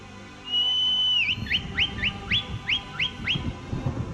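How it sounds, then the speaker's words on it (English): A shrill whistle in the Skyrim video game calls a horse: one long, high, steady note bends down at the end. A quick series of about seven short rising chirps follows, loud and close against a low background rumble. "I would like turn down your volume for a second when I whistle here"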